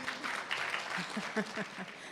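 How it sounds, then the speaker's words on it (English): Light clapping from a seminar audience at a research findings event in Nairobi, a short scattering of claps mixed with a voice talking over it. "clap for her, appreciate"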